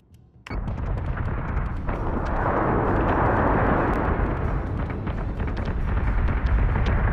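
Munitions fire in the space battle game Battlestar Galactica Deadlock: a sudden loud onset into a sustained roaring barrage of booming blasts and rumble, continuous and heavy with sharp impacts scattered through it.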